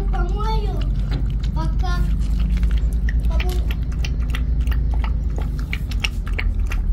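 Chewing and biting sounds come close up during a meal of soup and beef, under a loud, constant low rumble, while a person talks in a high, playful voice over them.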